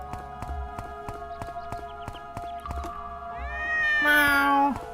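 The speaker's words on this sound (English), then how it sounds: "Why are there so many cats in this city?" Several cats meowing over steady plucked game music in The Legend of Sword and Fairy 4, with a long rising meow near the end, close and fairly loud.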